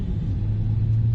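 A Corvette C8 on a race track gives a steady, loud low engine rumble throughout a short burst, with no voices.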